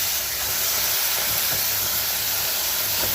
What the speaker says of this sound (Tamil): இப்போ இதில் இந்த பீஃபை சேர்த்துக்கலாம்.